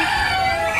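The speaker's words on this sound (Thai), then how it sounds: "ไก่หนีเราไป" A chicken at a small petting zoo garden gives a short, loud cluck or crow, heard close and alone for under a second.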